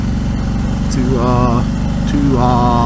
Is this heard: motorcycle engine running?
yes